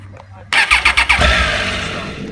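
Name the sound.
Triumph Tiger 800 XRT motorcycle engine starting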